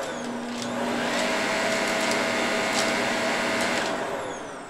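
A Shark vacuum cleaner runs steadily at close range, its motor droning with a constant whine as it sucks up a test mess, with a few brief rattles of debris pulled into the machine.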